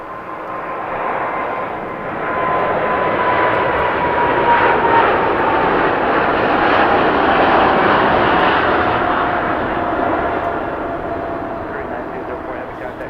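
Korean Air heavy jet departing LAX, a loud engine roar that swells after a couple of seconds, holds strong, then slowly fades as it moves away, with voices faintly beneath.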